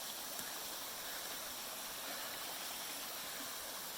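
Water from a trail-crossing stream rushes steadily and alone nearby, a dense, even wash with no pauses and no voices.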